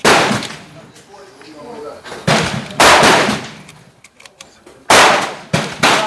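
Gunshots from a Smith & Wesson 4043 TSW pistol, several sharp loud reports fired singly at uneven intervals, close by, with faint rattling and handling sounds between shots.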